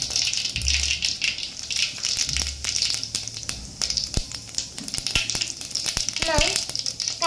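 Mustard seeds and cumin crackle and sizzle in hot oil with steady frying hiss and sharp popping and spattering, close and continuous, with someone talking over it.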